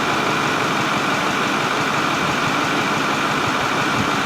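A Ford 6.4 diesel engine idles with a steady, dense rumble and faint rapid low pulsing, close and unbroken throughout with no talking.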